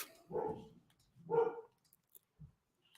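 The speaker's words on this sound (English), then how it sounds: "sorry about the barking in the background if you can hear that" Two muffled dog barks at moderate distance, spaced about a second apart, followed by a few faint clicks.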